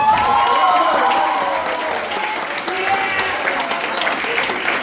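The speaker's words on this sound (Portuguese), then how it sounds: "então por favor, palmas para o amigo." Applause fills a class audience as people clap for a friend, dense clapping mixed with crowd murmur and a voice speaking over it at first.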